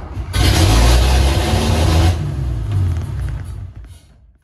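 A barn-find 1974 Toyota FJ40 engine cranks and catches, then runs loud and rough with heavy low rumble, settling slightly lower before tapering off near the end.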